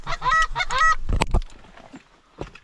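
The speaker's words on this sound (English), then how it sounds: "Oh, hey, 2 geese." Two geese honk in a rapid burst of loud, nasal calls over a Minnesota field on duck-hunting opening day, followed by rustling handling noise and a brief faint call near the end.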